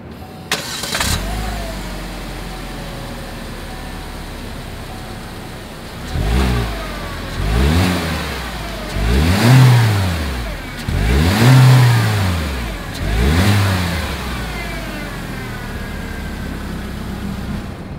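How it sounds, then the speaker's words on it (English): A 2020 Chevrolet Spark's engine starts, idles briefly, then revs up four times in a row, each rev swelling and falling back, close and loud through the exhaust with no talking. "As always, here is that exhaust clip"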